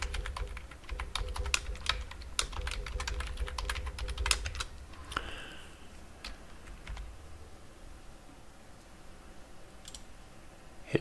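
Close, fairly quiet computer keyboard typing as a new password is entered, quick irregular key clicks in a cluster at the start, then sparser isolated taps against a soft background hum.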